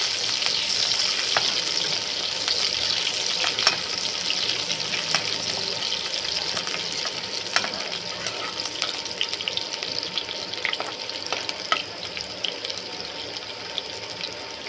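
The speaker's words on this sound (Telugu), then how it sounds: "ఈ ఉల్లిపాయలని దోర కలర్ వచ్చేంత వరకు బాగా వేగనిద్దాము" Onions fry in oil for an aloo masala curry, a soft steady hiss with occasional faint ticks and spatula taps, fairly quiet and unbroken by speech.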